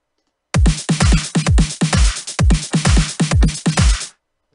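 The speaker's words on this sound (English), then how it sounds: "We're going to do a pretty simple 4x4 beat." A simple four-on-the-floor electronic drum beat in FL Studio plays steadily for about three and a half seconds: punchy kicks alternating with bright snare or clap hits, loud and up front, no talking.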